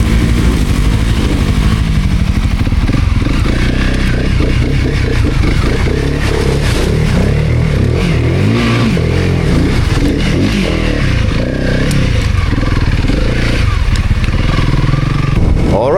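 A Honda CRF300L dirt bike with its stock exhaust rides continuously, engine droning loud and close with rises and dips in revs and some clatter, alone without talk throughout.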